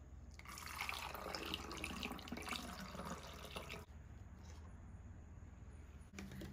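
Tea hair rinse pours into a spray bottle in a steady trickling stream for a few seconds, then tapers off into faint splashes and quiet.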